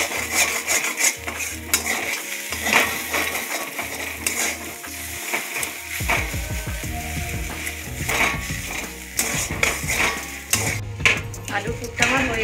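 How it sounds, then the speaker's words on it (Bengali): Potato filling seasoned with turmeric and chili powder is stirred and sautéed in a pan for bread chop, with steady scraping and spatula clatter over a soft sizzle, loud and close, with no talking. "ভালো করে কষে নেব।"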